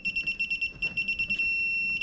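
A torque wrench set to 120 foot-pounds beeps in rapid, evenly spaced high-pitched pulses that speed up, then merge into one continuous steady tone as the set torque is reached, loud and close.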